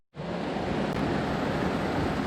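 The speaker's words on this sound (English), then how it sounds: "We got ourselves a nice little downpour here." A heavy rain downpour during bass fishing, heard from under shelter as a steady, dense, loud roar of falling water that starts abruptly and continues without a break.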